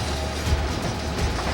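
A giant freight train running onto a single track around a curve gives a steady, close rumbling roll with faint clatter throughout.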